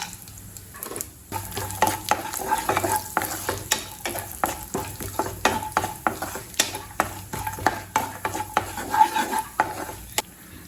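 Cashews and almonds roasting in ghee for rava payasam, with a steady soft sizzle broken by frequent sharp clinks and scrapes of a spoon stirring against the pan, close and continuous, with no voice.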